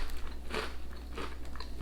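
Cheese and onion crisps are bitten and chewed close up, giving a few sharp crunches followed by quieter, crackly chewing.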